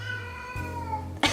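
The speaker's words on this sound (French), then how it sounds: "mon chat se manifeste" A pet cat named Minou gives a long, drawn-out caterwauling meow that shifts pitch midway, close and loud, ending in a sharp burst of noise.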